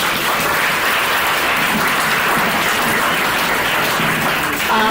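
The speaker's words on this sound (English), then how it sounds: "Give him another round of applause." An audience at a council meeting claps for Dr. Thornton in loud, dense, sustained applause, with no voices over it.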